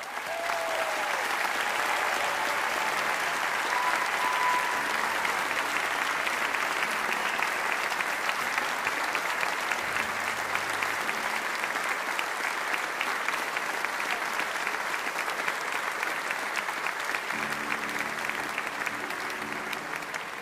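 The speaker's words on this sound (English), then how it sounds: "let me ask representatives of these restaurants to stand and take an ovation" Steady, sustained applause fills a large hall as an audience gives an ovation at a restaurant awards ceremony, even and unbroken throughout, with faint music entering near the end.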